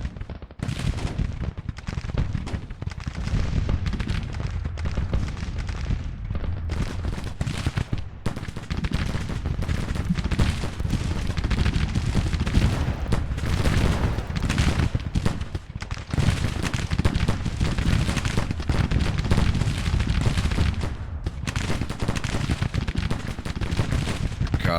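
Civil War artillery bombardment and massed gunfire fill a Grand Tactician battle at Fort Arbuckle, with dense continuous rumbling booms and crackling volleys that overlap without pause throughout.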